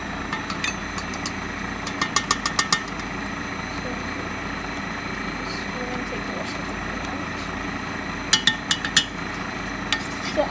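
An electric mixer beats butter, egg yolk, vanilla and cream for cookie dough, a steady motor whir with scattered sharp clicks of the beaters against the bowl, and no talking.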